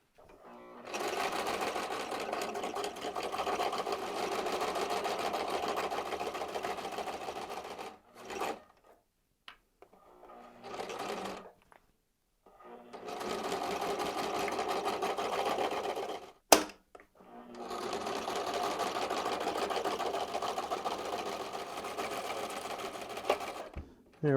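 A sewing machine stitches a tabard in long, steady whirring runs, stopping briefly between seams with a few clunks and handling noises in the pauses.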